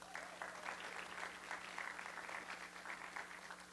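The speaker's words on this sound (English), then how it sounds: "While we're clapping for these young men" Audience clapping steadily for young men at a Troop 63 Eagle Scout Court of Honor, a dense, even patter of many hands filling the room with a faint steady hum beneath it.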